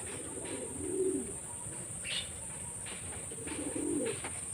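Madras pigeons coo in two soft, low bouts at a home loft, with a faint chirp between them over a steady background hiss.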